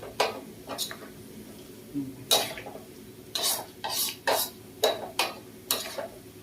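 Shallots fry gently in oil over a low flame while a utensil stirs and scrapes the pan in irregular clinking strokes above a soft sizzle.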